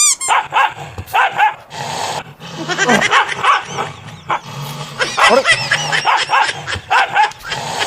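Several dogs bark and growl in rapid, overlapping bursts, loud and close, with excited yips mixed in throughout.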